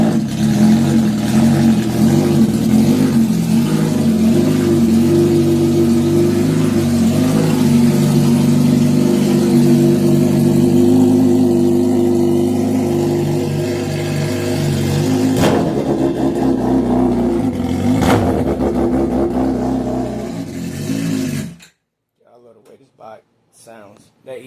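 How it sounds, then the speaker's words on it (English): A motorcycle engine running on E85, started and revved with rising and falling throttle bursts over a rough idle, loud and near, then cutting off abruptly into quiet with faint voices. "let's start her up one time."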